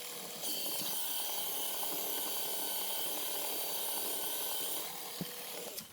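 A paper shredder runs continuously as it cuts fabric ribbon into strips, a close, steady grinding whir that stops near the end, followed by a couple of knocks.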